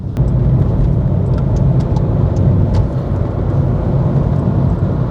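A 2017 Skoda Fabia Monte-Carlo hatchback pulls hard under acceleration while overtaking on the road, a dense, steady engine drone and road roar heard from inside the cabin without talk.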